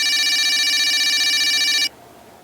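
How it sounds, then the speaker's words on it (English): A red tin can toy phone in a children's storybook rings with a loud, continuous bright electronic trill that holds steady for about two seconds and then cuts off abruptly. "Suddenly, the red tin can phone started to ring."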